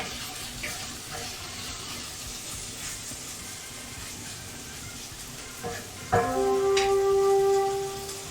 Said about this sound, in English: Hi, ice machine. I emptied all my ice out for that ice bath, and so it's busy at work refilling my bin.